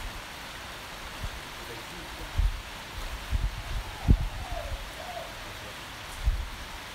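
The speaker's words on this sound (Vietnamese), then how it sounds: "Hôm nay là trời là âm u và đang mưa các bạn ơi." Steady rain falling in an orchid garden, a soft continuous hiss with a few louder dull patters and drips scattered through it.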